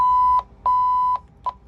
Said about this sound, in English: your VHF will beep.